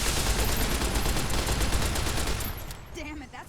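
Rapid bursts of gunfire in Fallout New Vegas, during a convoy fight in hardcore mode, crackle loudly and continuously for about three seconds before trailing off as a voice comes in.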